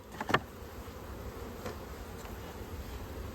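Honey bees hum in a low, faint, steady drone around a small nuc hive outdoors, with a couple of brief louder passes close by near the start.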